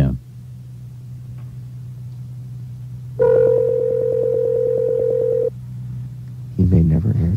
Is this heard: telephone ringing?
yes